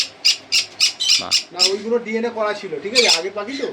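Pineapple conure parrots at a bird farm in Howrah let out a quick series of sharp, close squawks, followed by a voice talking over more calls.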